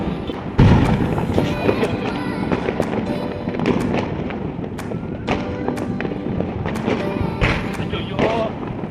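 Diwali firecrackers go off at night in a rapid, irregular string of sharp cracks and thuds, some close and loud, with a few deeper booms mixed in and people's voices underneath.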